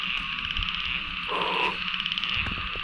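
Small frogs croak at night among a dense, steady chorus of insects, with a few short close calls standing out above the constant background drone.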